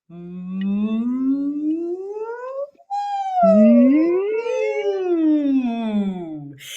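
A voice imitates an emergency siren, a sustained wail that sweeps up, breaks briefly, then rises and falls again, loud and close.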